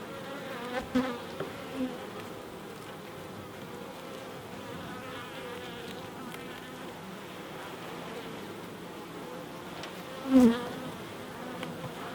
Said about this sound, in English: Look at the lovely bees.